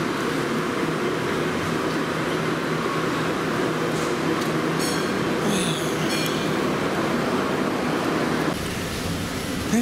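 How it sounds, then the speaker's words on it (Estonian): Passenger train ride heading to Hong Kong, heard from inside the carriage: a steady, loud rumbling roar of wheels on track, with faint squeals and a short high whine midway, and no one talking. "Nüüd me sõidame rongiga Hongkongi"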